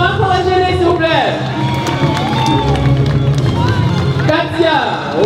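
An audience applauds and cheers for young performers, a dense continuous wash of clapping and crowd noise under a loud announcer's voice speaking over it.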